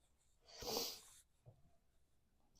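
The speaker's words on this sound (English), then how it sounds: "See, I got the sniffles." One soft nasal sniff or snort rises and fades in the middle, with faint breathy sounds after it, close and quiet.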